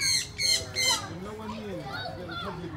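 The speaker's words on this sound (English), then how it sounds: "They're called the Amazon bird," Three loud, harsh Amazon parrot squawks come in quick succession, followed by softer chattering calls, with people talking nearby in a park.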